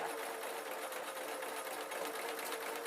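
A sewing machine stitches a hard-wearing peg bag, its steady, even whirr running close and unbroken throughout with no speech over it.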